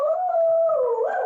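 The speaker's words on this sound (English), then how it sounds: "my husband has just walked in the door and the dog is saying hello" A household dog howls and whines in greeting as someone walks in the door, one sustained wavering howl rising at the end, fairly loud and close, with no barking distinct.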